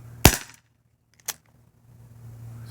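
A Bear River 4 inch revolver fires at a soda can: one sharp close report, then a second softer crack about a second later, with quiet between and after.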